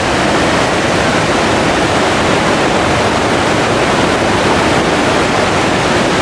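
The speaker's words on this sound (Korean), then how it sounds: "엄청난 물살이죠" The strong current of the Vedder River near Chilliwack in November rushes in a loud, unbroken roar of churning water, close and constant with no voices over it.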